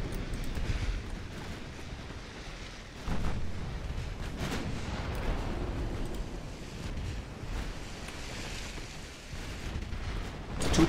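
Battleship 11-inch guns firing in the Ultimate Admiral Dreadnoughts naval game, heavy low booms rolling over a continuous rumble of wind and sea, with a couple of stronger thuds standing out among distant blasts.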